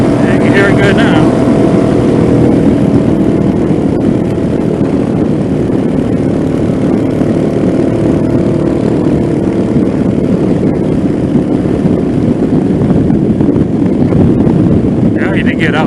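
Venom Ghost 250 motorcycle engine while riding, a continuous low drone under heavy wind buffeting on the microphone, steady and close throughout.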